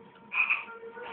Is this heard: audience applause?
no